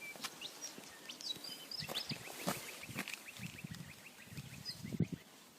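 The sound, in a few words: birds singing in the countryside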